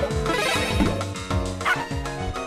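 A small dog in the video game Shantae: Risky's Revenge yips and barks in quick bouncy bursts over a tonal chiptune melody, close and clear.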